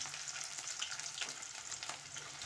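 Twenty small onions fry in a pan with dried red chillies and a whole bulb of peeled garlic for garlic kuzhambu, giving a steady, dense sizzle that runs evenly throughout with no talking.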